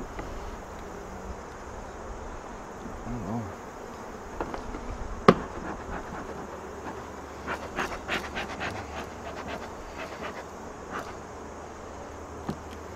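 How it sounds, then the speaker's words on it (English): A bee smoker is banged once on a beehive, a sharp knock amid a steady buzzing of bees, followed by a louder, busier swarm hum with scattered faint taps. "I just banged the smoker on the hive."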